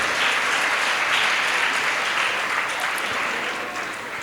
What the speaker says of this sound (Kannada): ಇದೇ ಒಂದು ಸಂದರ್ಭದಲ್ಲಿ ಎಷ್ಟೋ ಜನ ಗಂಡಸರು ಚಪ್ಪಾಳೆ ತಟ್ಟಿಬಿಟ್ರು